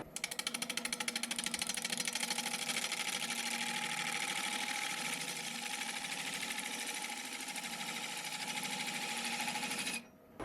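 A wood lathe turns a vase with a planing gouge cutting, a continuous harsh, buzzy scraping with a fast regular chatter that holds steady and close for about ten seconds before briefly dropping away.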